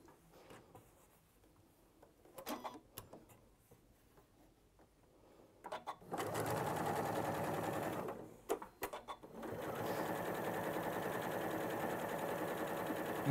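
A sewing machine stitches fabric, first with a few faint ticks, then in two long, steady, loud runs of fast whirring and rattling, with a brief pause between them.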